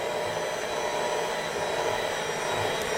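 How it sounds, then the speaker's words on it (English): An electric mixer whirs steadily as it beats cake batter in a bowl set in the kitchen sink for a Bûche de Noël, a continuous even motor drone that stays close and unchanging throughout, with no speech. "to mix things with an electric mixer"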